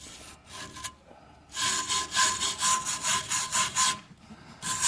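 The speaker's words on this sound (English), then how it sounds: "get you one of these little brass brushes" A small brass brush scrubbing a wetted surface in quick back-and-forth strokes, a rhythmic rasping scratch that starts after a short pause and continues in steady bursts, close and fairly loud.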